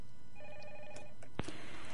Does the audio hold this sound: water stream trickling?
no